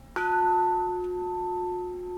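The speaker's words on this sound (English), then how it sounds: "this being the secondary bell, struck the most" A bronze secondary bell is struck once, giving a clear metallic strike followed by a long, steady ringing tone that slowly fades, heard alone and close.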